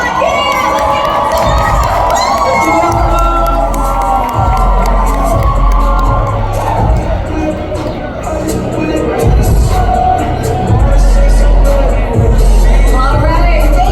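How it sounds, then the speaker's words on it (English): A crowd cheering, shouting and whooping at a Hmong American music concert celebrating fifty years, with loud sustained excitement, bursts of yells, booming thumps and voices mixed in throughout. "Keep your applause coming"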